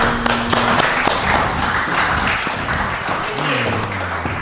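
An audience applauds a woman in a red dress on a blind-dating show, with dense, steady clapping and sharp slaps throughout, while a voice talks over part of it.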